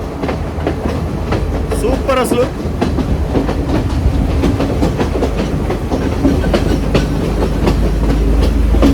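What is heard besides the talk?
train running on rails, Sri Lanka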